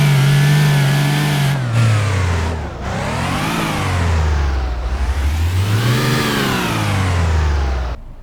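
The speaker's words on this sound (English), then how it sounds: "We got a good front wheel burnout going now." A car in the City Car Driving video game revs hard during a front wheel burnout, its engine pitch climbing and falling in repeated loud sweeping waves with brief gear-change dips, close and with no talking.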